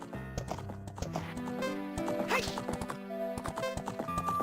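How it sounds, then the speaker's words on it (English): In a Nintendo 64 video game, horse hooves clip-clop in a steady rhythm with an occasional whinny, set against game music and sound effects. "so that horse over there, not the one I'm on,"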